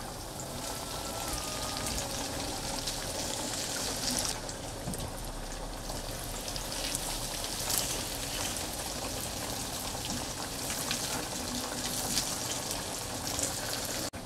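Bombay duck fish frying in oil in a pan, a dense continuous sizzle like steady rain that goes on for the whole stretch at an even level, close by, with no talking.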